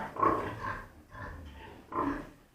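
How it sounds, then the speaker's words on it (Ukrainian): Pigs on a farm grunt and snort in three short bursts, close and moderately loud, with no talk. "Ну і наостанок покажу наших свинок"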